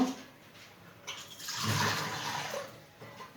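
Water pours into a pot of chalta (elephant apple) pickle, a soft splashing gush that builds after a quiet start, peaks midway and tapers off.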